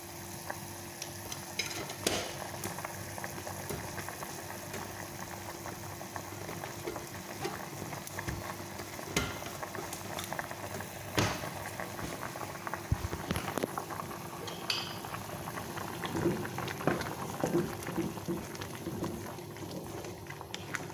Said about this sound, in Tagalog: Pakuluan lang muna natin siya ng mga 20 minutes